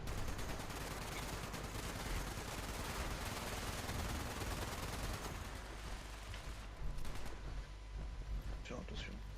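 Fallout 76 gameplay brings sustained rapid gunfire, dense bursts of automatic shots rolling on without pause at a fairly low level, thinning slightly toward the end.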